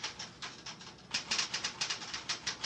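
Rapid, evenly paced clacking of typewriter keys in a film scene, a quiet run of crisp strikes with a short pause partway through and no voices.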